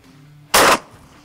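A single sharp crack of an air rifle firing a Sterling steel parachute pellet with six fins at a target, brief and loud against a quiet background.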